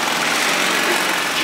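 A scooter engine idles with a buzzing, high-pitched steady drone, close and loud throughout, no talking over it.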